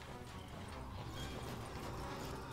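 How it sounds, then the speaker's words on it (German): Horse hooves clip-clop at a steady walking pace close by in the fantasy video game Die Zwerge, set against a dense background of game ambience, with no talking. "Ach, ein Pferd ist auch in der Nähe, ist bestimmt der hier vorne."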